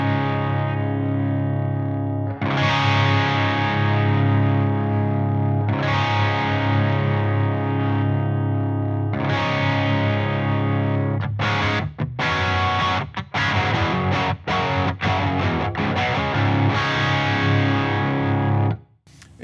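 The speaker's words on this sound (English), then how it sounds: "So I'm gonna strum a chord and then I'm gonna hit the shift switch, so you should hear the difference." An electric guitar played through a Victory VXMK2 amp at lower mid-gain strums a distorted chord several times, each ringing out long, then switches to a choppier run of rapid cut-off strums after the shift switch is engaged, loud and alone.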